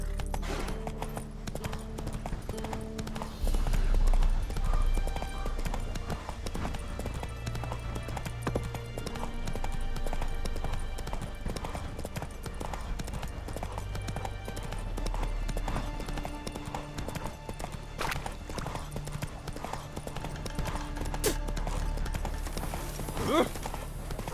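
Hooves of the horse Roach clip-clop at a steady gallop in The Witcher 3, a continuous rhythmic beat running loud through the whole stretch over game music and ambience, with a brief whinny near the end.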